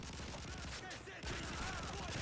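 Heavy-weapon gunfire from Modern Warfare 3 survival mode rattles in a dense, continuous barrage of rapid shots that dips briefly before picking back up.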